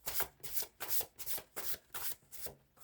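A deck of cards being shuffled, a quick series of about eight crisp riffling bursts in steady rhythm, close and fairly quiet.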